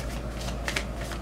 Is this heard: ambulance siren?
no